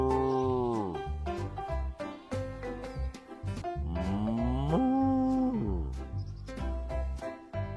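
A toy farm barn set plays loud, drawn-out cow moos, two long bellowing calls with sliding pitch, close and clear, with short gaps between them.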